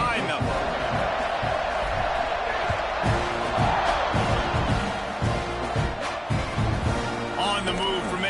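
Steady stadium crowd roar from an EA football video game, a dense constant murmur with scattered shouts, running under a commentator's play-by-play voice.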